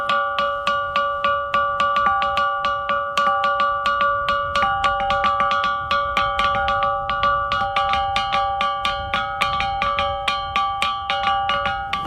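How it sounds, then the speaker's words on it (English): An ancient Nubian rock gong, a stone slab worn smooth and thought to date to about 5,000 BC, is struck in a fast, steady series of ringing metallic-sounding strikes with sustained tones, loud and close. "It's not a bell, but it's what we call the rock gong."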